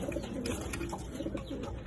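Low, soft cooing of a pigeon or dove nearby, repeated over a steady background hum.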